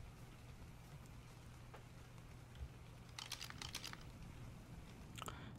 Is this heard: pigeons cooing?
no